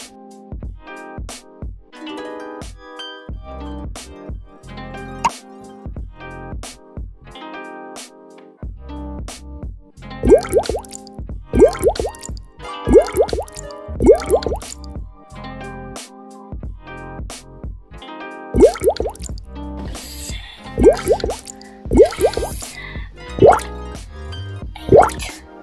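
Drops of dish soap fall into a liquid for a colorful fountain kids' science experiment, giving a run of quick, close plinking drips that grow busier and louder in the second half.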